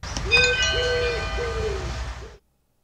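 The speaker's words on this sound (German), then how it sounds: "Jetzt kann geklingelt werden." An AOSU video doorbell chime rings out with a short electronic melody of several tones, then cuts off abruptly into silence.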